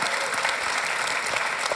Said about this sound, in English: big applause to Latitude, EstBAN, and to co-leads as well